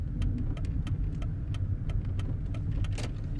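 A Mercedes W203 C-Class with a gear-engagement fault runs steadily, its engine a low continuous hum from inside the car with faint light rattles over the top, no talking.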